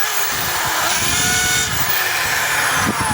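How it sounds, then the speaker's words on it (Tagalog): A DeWalt DWD024 half-inch hammer drill runs steadily in hammer mode, a loud continuous mechanical whine and rattle with no pauses. "So, gumagana yung hammer mga kabay, pati drill."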